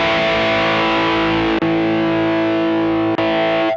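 Electric guitar played through a TC Electronic Nova Drive pedal, with distortion feeding into overdrive, rings out as a loud, thick sustained chord that is struck again twice, with no talking.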